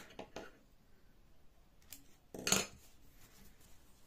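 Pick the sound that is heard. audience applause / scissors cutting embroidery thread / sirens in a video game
scissors cutting embroidery thread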